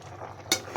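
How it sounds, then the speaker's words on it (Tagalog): A spoon stirs sautéed vegetables with moringa leaves in a cooking pot, giving two short scraping clinks over a quiet, low simmer. "Haluin natin."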